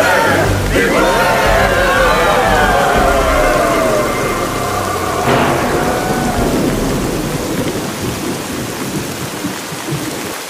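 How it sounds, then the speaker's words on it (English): Cartoon sound effect of rain and thunder: a loud rumbling thunder crack over steady heavy rain, followed by a second roll about five seconds in, then rain continuing and slowly easing. "Is it raining in there? It's raining out here, too."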